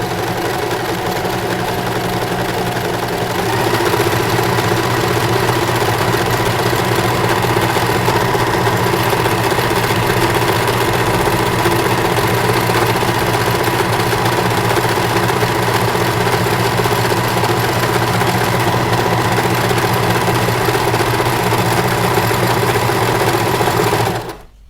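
A Usha Allure Dlx sewing machine stitches a decorative pattern, its motor whirring in a loud, steady, continuous drone with fast mechanical needle chatter running unbroken for the whole stretch and no talk.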